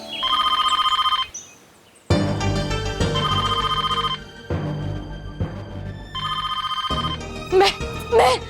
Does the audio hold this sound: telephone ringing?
yes